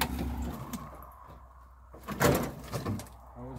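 A door on a 1965 Opel Kadett B Coupe that has been off the road for decades is worked in a coachwork shop. A single fairly loud clunk comes partway through, after quiet rustling and handling noise.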